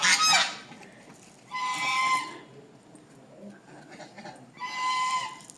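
Domestic goose honks in three loud, harsh bursts with quiet gaps between them, close by and with no voices over them.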